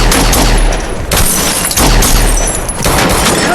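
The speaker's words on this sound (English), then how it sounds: "After exchanging gunfire" Loud, rapid bursts of gunfire crackle in dense volleys in John Wick 2, several flurries packed close together with booming impacts.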